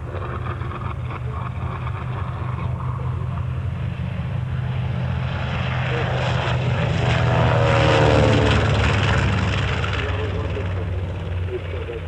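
Vintage propeller warbirds at the La Ferté-Alais airshow in 1991, including types such as the F4U, P-40, P-51, P-47, B-25 and B-17, make a loud, sustained engine drone that swells and passes overhead while a commentator talks over it.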